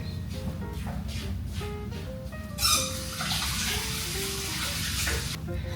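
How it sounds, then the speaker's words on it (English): Water runs steadily from a kitchen tap while hands are washed beneath it, a close, continuous splashing with small changes in flow and a brief louder gush. "We're actually gonna wash our hands first."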